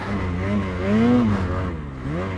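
A Ski-Doo Summit 850 E-TEC Turbo snowmobile engine revs up and down in smooth rising and falling sweeps, fairly close and steady, with no talking.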